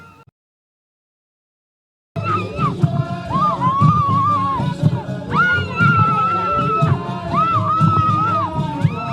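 A large crowd cheers and shouts loudly during a traditional dance, after a brief silent gap. Whoops, screams and a voice rise above steady music and noise.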